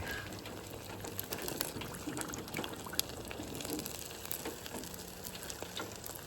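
Oil drips and crackles faintly off peanut-oil-fried chicken wings just lifted from the fryer. The soft, steady sizzle is broken by small scattered ticks, and there is no talk.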